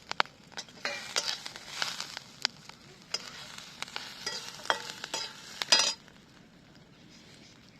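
Green chillies and garlic roasting in a pan with a drop of oil, a quiet sizzle punctuated by intermittent clinks and scrapes of a spatula against metal.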